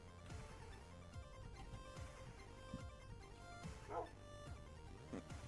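A dog in the Minecraft video game barks and yips over and over through a busy game soundtrack, the sharp barks repeating at a moderate distance.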